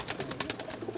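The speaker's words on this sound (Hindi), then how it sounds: "चंद ब्रीडर कबूतर दिखा रहे हैं" Pakistani breeder pigeons cooing in soft, repeated low pulses, close by, over a steady faint background hiss.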